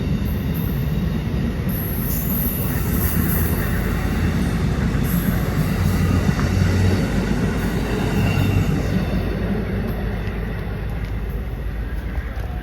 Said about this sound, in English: there goes that Tri-Rail